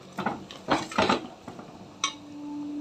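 Sambar powder stirred into a mixture in a pot: a spoon scrapes and clinks against the metal in a few quick strokes, then a single sharper knock, close and fairly clear, with no talk.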